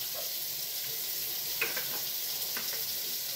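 Oil sizzles in a large hot skillet for a chicken and broccoli dish, a quiet steady hiss with faint crackles and a small clink partway through.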